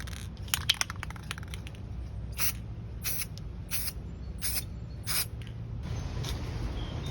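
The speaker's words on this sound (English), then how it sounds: "I just finished spray painting all the plastics." A spray can applies paint to scooter plastic panels in a series of short hissing bursts, roughly a dozen sprays of varying length close to the microphone, with brief pauses between them.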